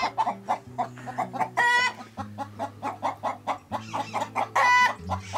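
A hen on a rural smallholding in the Córdoba hills clucks in rapid repeated bursts, broken by two higher squawking cries, loud and close, with other chickens faintly behind.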